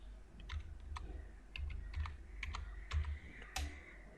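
Someone types a short word on a computer keyboard, producing a quiet, irregular string of close key clicks with small pauses between them.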